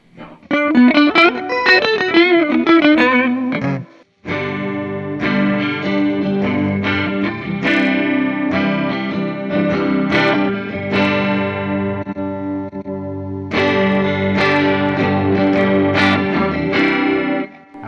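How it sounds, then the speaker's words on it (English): Electric guitar through a Donner chorus pedal, with a shimmering chorus effect and some grit, playing chords and melodic lines continuously, with a brief pause near the start. "this might actually get me a chorusy kind of sound"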